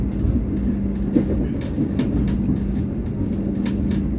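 An Argo Wilis passenger train runs on the rails through hilly country, a steady low rumble from inside the carriage punctuated by a regular series of sharp clicks and clacks from the wheels.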